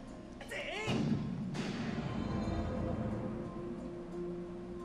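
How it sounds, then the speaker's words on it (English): A ship's cannon fires in the Zelda: Skyward Sword video game, with heavy booming thuds about half a second apart over a bed of game noise and sweeping, voice-like effects. "We must pursue and keep pounding it with the cannon."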